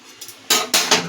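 A lid clatters onto a metal pan of potol chingri (pointed gourd and prawn) gravy, with a soft knock, then two loud metallic clanks close together, up close.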